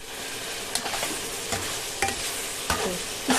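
Mutton sautéed with spices in a pan, a steady close sizzle with scraping stir strokes roughly every half to three-quarter second, no voices.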